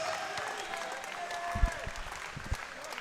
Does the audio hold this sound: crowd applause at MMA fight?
yes